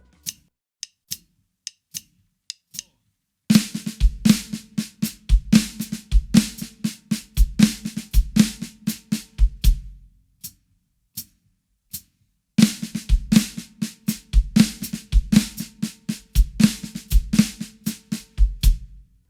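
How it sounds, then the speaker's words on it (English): A snare drum plays a slow lick of sharp strokes and quick rolls, with a pause, then the pattern repeats; crisp and close. "Played super slow on the snare, it could sound like this."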